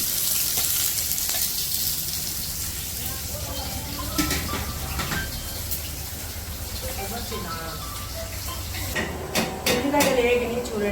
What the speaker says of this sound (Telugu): ఉల్లిగడ్డలు వేగిని చూడండి.